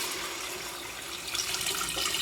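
Potato cooking water poured from a vessel into a pot of vegan carapulcra, a steady broadband splashing stream that swells slightly louder near the end, close and continuous with no talking.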